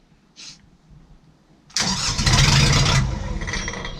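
The Canaline 42 narrowboat engine, after a brief small click, cranks and catches suddenly, then settles into a loud, steady mid-pitched idle that carries on close by with no one talking.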